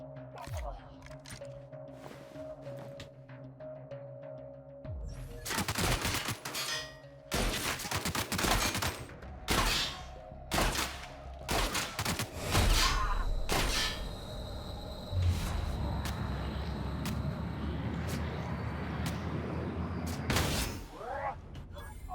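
Shotgun blasts and other gunfire ring out in combat in The Outer Worlds, loud irregular bursts of shots spread over the scene, with game sounds and a voice talking intermittently.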